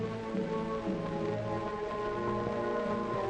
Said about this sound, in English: with sleet turned to rain